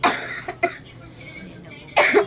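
Coughing from an unwell adult, in a few sharp bursts near the start and a louder one at the end, close and fairly loud, with short pauses between.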